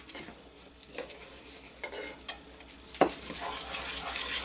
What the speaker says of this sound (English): And then you stir it in.